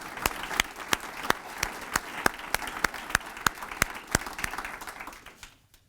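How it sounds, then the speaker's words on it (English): An indoor audience at a community celebration applauds with a round of sharp, evenly spaced claps close by, fading out at the end. "So I want to ask everybody to give them a round of applause."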